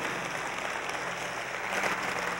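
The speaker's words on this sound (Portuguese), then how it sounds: "Pode aplaudir" A church congregation applauding during an evening Sunday service, a dense, even wash of clapping from many hands that swells slightly toward the end.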